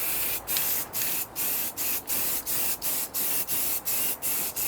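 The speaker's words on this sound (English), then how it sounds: "Coat of primer and a coat of whatever colour I happen to have lying about." Primer is sprayed from an aerosol can onto a grinder rack in quick repeated bursts, about ten short, loud hissing blasts in a steady rhythm with brief gaps, close by and with no talking.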